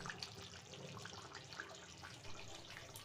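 Mutton curry bubbling and sizzling in a pot after hot water is added, a steady close hiss with scattered pops and crackles throughout, no voices.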